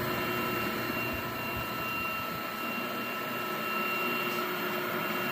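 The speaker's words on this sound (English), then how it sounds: "we have had the motor running for nearly three and a half hours. Unit continues to run perfectly." A Techtop 25 HP electric motor runs steadily after hours of continuous operation, a constant, even mechanical hum with a faint high whine, no irregular noises, heard alone without talk.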